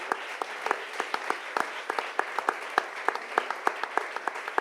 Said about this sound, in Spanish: les pido un fuerte aplauso para los y las invitadas